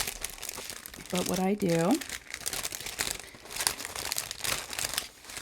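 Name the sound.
crinkling of packaging while diamond painting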